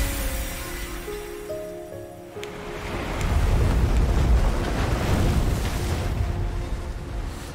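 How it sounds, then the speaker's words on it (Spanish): Stormy waves in the video game Glimmer in Mirror, a loud, rushing roar of surf and wind that swells after a few seconds of tonal music and keeps surging, with no voices. "El sonido de las olas tormentosas proviene del espejo repentinamente roto."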